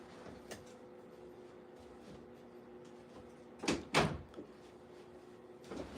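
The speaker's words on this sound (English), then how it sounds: "Can you shut the door?" An indoor door is pushed shut, with a couple of sharp knocks and a bang about two thirds of the way through, then a fainter bump at the end, all over a quiet steady background hum.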